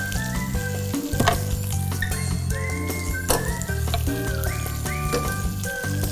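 Garlic and peppers sizzling in a pan for sausage and pepper polenta, a steady close hiss with occasional sharp crackles and light clinks of a utensil against the pan, while a musical tone plays beneath.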